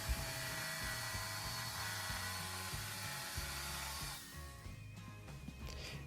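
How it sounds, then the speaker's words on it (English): Jigsaw cutting notches in wood around chine stringers and a bulkhead during boat cockpit frame building, a continuous high buzzing whine with a pulsing low chatter, close and loud, easing off near the end. "Then I used the jigsaw to make some notch cuts around the chine stringers and bulkhead number 9."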